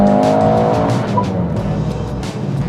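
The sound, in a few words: Mercedes-AMG SUV four-cylinder engine accelerating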